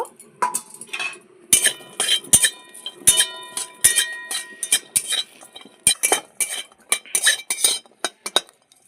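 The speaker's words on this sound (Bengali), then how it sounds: "আর রসুনগুলো একটু কড়াইতে নেড়ে নেব" Metal utensils scrape and clink against a wok while stirring garlic and green chillies, in quick, irregular strokes, with sharp taps throughout and no voices.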